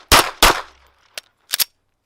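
A 2011 pistol with a compensator and light springs, shooting Tula ammo, fires four sharp close shots: two quick loud ones, a pause, then two fainter shots in quick succession.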